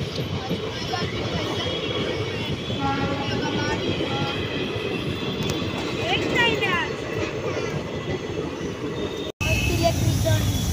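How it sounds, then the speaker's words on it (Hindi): A WAG9 electric locomotive hauls the Rajkot-Veraval passenger train on its first electric run, a steady loud rumble of rail running and wheels that holds throughout, with people talking faintly beneath it. "राजकोट वेरावल पैसेंजर शाम की ट्रेन वेग नाइन के साथ जाने वाली पहला इलेक्ट्रिक"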